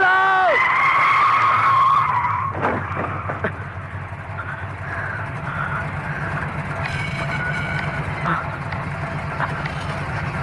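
A car driven fast in a movie scene, tyres skidding and squealing at the start before a rumbling engine drone carries on, with voices speaking over it.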